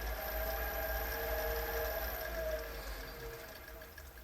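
A Myford ML7 metal lathe runs on a variable speed motor, a steady, fairly quiet mechanical hum with whining tonal overtones, holding even throughout and easing slightly toward the end.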